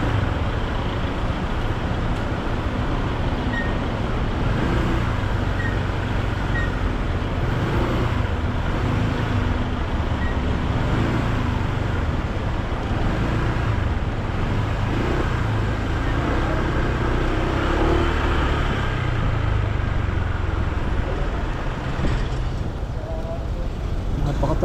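Heavy road traffic flows past, with a continuous dense wash of engines and tyres, steady and fairly close throughout, with faint voices buried underneath.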